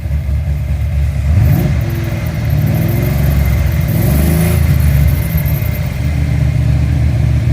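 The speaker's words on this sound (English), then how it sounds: "Rev it up some." A car engine with a replacement Edelbrock 1405 carburetor runs loud and close, climbing into a rev early on and holding a steady, raised roar throughout, with no voices.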